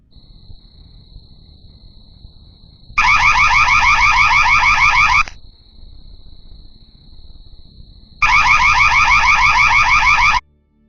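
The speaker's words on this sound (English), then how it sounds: "a motion-activated alarm is sounded off" A motion-activated alarm blares in two loud, warbling bursts of about two seconds each, with a thin steady tone lingering between them.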